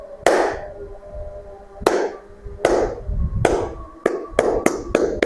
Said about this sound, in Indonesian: Kita coba tepuk.